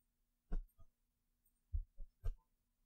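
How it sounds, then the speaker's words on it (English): A close, muffled heartbeat thumps in soft lub-dub pairs, about three beats spaced evenly in near silence, deep and dull as if heard against a chest. "Can you hear my heartbeat?"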